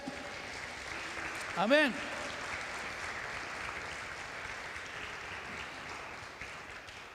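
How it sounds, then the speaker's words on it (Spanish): A church congregation applauds during a Spanish-language sermon. The clapping is soft and distant, washing steadily under a preacher's amplified voice, and one brief louder exclamation cuts in early. "Dale un aplauso al Señor"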